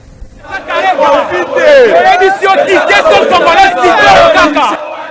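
A huge crowd of Nouvel Élan party cadres and supporters at a sit-in protest, cheering and chanting together in a loud, sustained roar of many voices throughout.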